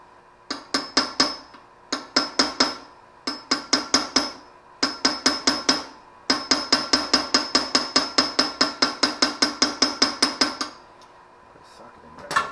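Hammer tapping a tight wheel bearing out of a 52-year-old Honda CB350 wheel, sharp metallic strikes in short clusters, then a long steady run of evenly spaced blows, close and ringing.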